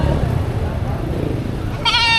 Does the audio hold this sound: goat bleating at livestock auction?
yes